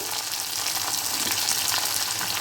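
Okra and onion sauté in a pan for a Kerala-style sambar, giving a steady, close, continuous frying sizzle with light stirring that stays even from start to finish, with no voices.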